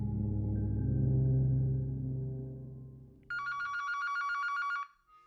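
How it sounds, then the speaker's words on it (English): An old-style telephone bell rings alone, loud and close, as a sustained jangling burst that cuts off abruptly, after a low rumbling tone fades out. "Sergeant Birbeck got a call from the medical examiner"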